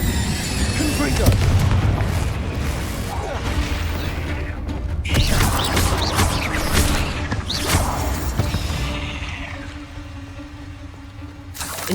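Blasting Confringo spell explosions in Hogwarts Legacy burst out as repeated loud booms with crackling, rumbling tails, mixed with other spell effects and game sounds across the stretch.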